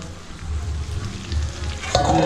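Mutton curry simmering and sizzling in a pot over low heat, a steady soft frying crackle with light stirring scrapes, rising a little louder near the end.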